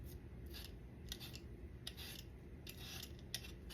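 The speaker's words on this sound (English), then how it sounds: "I'm just gonna peel them a little bit." Potatoes being peeled for fries, faint close scraping strokes in an irregular rhythm over a low steady background hum.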